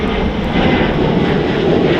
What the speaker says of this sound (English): here's the Ryanair departure to that famous Irish resort